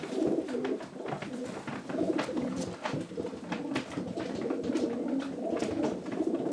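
Janssen pigeons coo steadily and continuously up close, a low, throaty, rolling murmur with overlapping calls and no talking.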